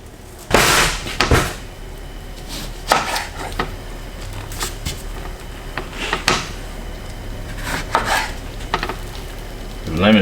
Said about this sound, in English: I'm gonna chop up my onion, my lemons